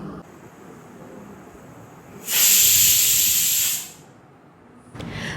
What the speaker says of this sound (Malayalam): അപ്പോൾ കുക്കർ വിസിലടിച്ചിരിക്കുകയാണ്